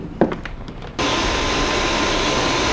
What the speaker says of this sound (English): use a vacuum cleaner to suck up all the chips